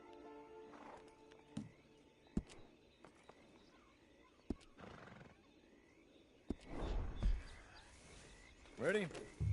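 A horse in the video game Red Dead Redemption 2 gives a snort and whinny near the end, with scattered hoof clops and thuds under a speaking voice.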